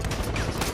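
A brief burst of loud gunfire in the first-person shooter Far Cry 4 during a fight at Baghadur Fortress, with sharp shots over a dense noisy game background.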